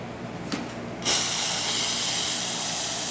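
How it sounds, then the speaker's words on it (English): An espresso machine steam wand gives a loud, steady hiss that bursts on after a brief pause and continues without letup, close by. "Excellent steam pressure as well."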